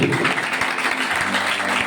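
A church congregation claps together at a Christmas service, a dense, close patter of hands punctuated by occasional sharper claps, with a faint sustained tone beneath.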